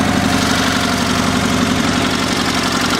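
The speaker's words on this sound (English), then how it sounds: "just get an idea of how the engine sounds." Close and loud, a Sears SS/16 twin-cylinder garden tractor engine runs at a steady idle, its even low chugging drone continuing unbroken with no talk.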